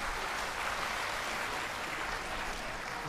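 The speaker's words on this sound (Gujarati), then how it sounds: "છોકરાઓ 1 મિનિટ તાળીઓ પાડો" Children in the audience of a Ramkatha religious discourse clap together in a steady, dense patter, heard faint and distant with no voices over it.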